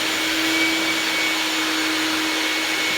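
Shop vac running continuously while vacuuming dust and debris off a bonus-room subfloor, a loud, steady whining motor drone with a sustained high hum and no breaks.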